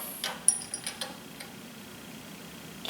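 Ratchet wrench snugging a jointer knife bolt, a quick series of faint metallic clicks in the first second, then near silence.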